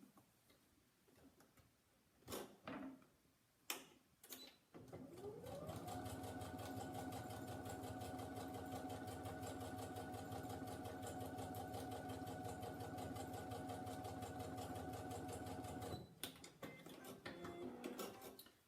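Sewing machine stitching a 1/4 inch seam on Christmas wreath fabric pieces, a steady mechanical whirr running continuously for about ten seconds after a few handling clicks, then stopping.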